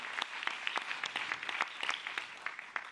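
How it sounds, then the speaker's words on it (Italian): An audience applauds at the closing ceremony of the 35th Lovers Film Festival, with dense, crisp handclaps in an irregular patter that stays close and fairly even throughout. "Ringraziamolo comunque con un applauso"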